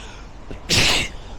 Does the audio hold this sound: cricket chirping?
no